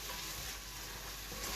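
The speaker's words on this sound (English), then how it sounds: "while my onions are cooking" Onions fry in a pan with a soft, continuous sizzle, faint and steady throughout with no voices.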